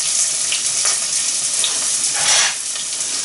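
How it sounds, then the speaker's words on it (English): Onion softening in a pan as the base for salmon risotto, a steady hiss of sautéing with a few soft scrapes of a spoon stirring, close and without speech. "I'm just gonna stir it around for about a couple of minutes, 2 or 3 minutes, just to get it nice and soft"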